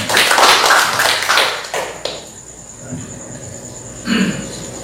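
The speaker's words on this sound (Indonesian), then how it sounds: "Oke, kita tepuk tangan dulu untuk hamba" A church congregation applauds a pastor. A burst of clapping lasts about two seconds and then fades out, leaving a quieter room with a brief tap near the end.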